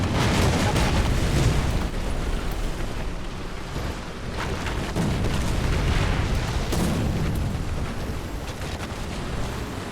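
Tank cannon fire from a German Tier-1 Neubaufahrzeug medium tank battle in War Thunder, heavy booming blasts and rumbling explosions rolling on loud and dense throughout, with no talk.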